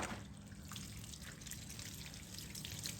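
Water sprayed onto a bonsai coconut palm to wash pests off, a steady close hiss and trickle running without a break.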